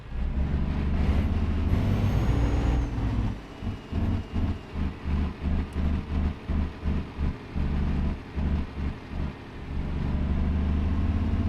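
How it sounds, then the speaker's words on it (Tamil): A 14-year-old Scania S 370 truck engine, under restoration, idles loudly, then is revved in a dozen short, rhythmic bursts before settling back to a steady rumble. "வண்டியை இப்போ நான் விட்டு விட்டு ரேஸ் பண்ணிருக்கேன்"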